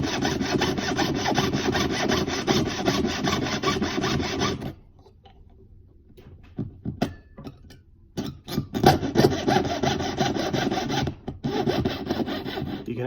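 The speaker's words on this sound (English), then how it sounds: "as you're cutting through this material. You'll hear the pitch rise, and then when you're almost cutting through the material, it'll actually drop." A saw rasps steadily through metal while riveting pins for metalsmithing, stopping for several seconds, then resuming with short strokes and a sustained cut; close and moderately loud, no talk.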